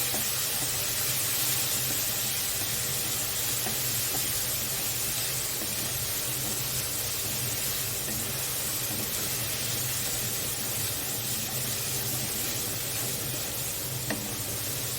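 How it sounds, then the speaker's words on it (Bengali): Ginger-garlic paste frying with onion in a pan for a Bengali pui shaak chorchori with fish head, giving a steady, close hiss and sizzle that holds evenly throughout with no talk. "আদা রসুনটা ভালোভাবে ভেজে নিতে হবে পেঁয়াজের সাথে।"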